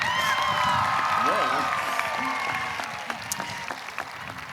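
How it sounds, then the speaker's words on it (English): A graduation ceremony audience breaks into loud applause and some cheering, a dense wash of clapping that peaks early and gradually thins out, with voices mixed in. "That deserves an applause."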